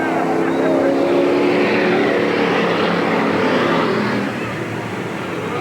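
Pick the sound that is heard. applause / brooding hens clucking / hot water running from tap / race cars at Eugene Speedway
race cars at Eugene Speedway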